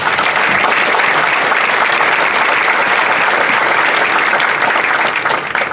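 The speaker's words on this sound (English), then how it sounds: "So I want to give them a round of applause as well." Audience at a 2022 high school graduation ceremony applauding, a loud dense wash of clapping that holds steady for several seconds with no voices over it.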